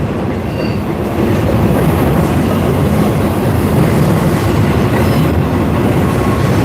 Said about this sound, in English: That's a big train right there.